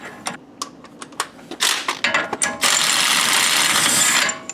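Ratchet wrench clicking as it breaks free and spins off the axle nut of an S13 240SX, in short quick bursts and then a sustained run of close, loud ratcheting.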